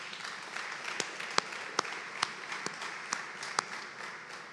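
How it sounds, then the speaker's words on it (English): Conference audience applauding in a university venue, a thin, moderately distant patter of many hands with a few sharper individual claps standing out, sustained evenly throughout. "I'd like us to give the university a round of applause."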